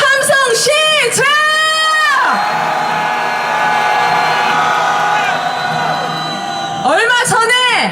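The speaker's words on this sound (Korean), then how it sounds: "함성 시작." A crowd roars and cheers at a street march calling for the impeachment of President Yoon Suk Yeol. Loud, strained shouting voices ring out at the start and again near the end over a continuous, close crowd din.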